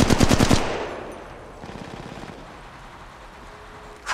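Automatic weapon fire from the mobile battle royale game Apex Legends Mobile: a loud rapid burst at the start, then a fainter stuttering volley and a sharp shot at the end.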